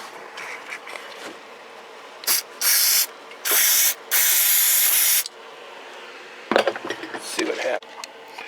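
Degreaser cleaner hisses from a spray can in three close bursts, the last one long, during cleaning of an old radio's wafer switch and rectifier socket, surrounded by small handling clatter.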